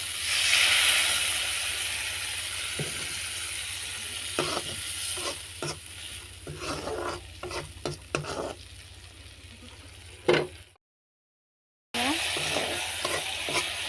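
Steady sizzling of food frying in a pan, with repeated scraping clicks of a spatula stirring; a brief silent gap near the end before the sizzle resumes.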